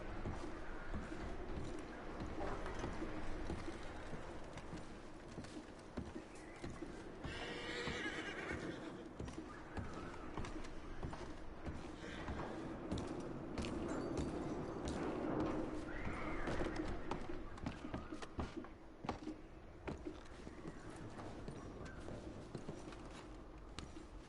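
Horses in the video game Red Dead Redemption 2 whinny and neigh several times amid soft hoof clops and ambient outdoor noise, with no talking.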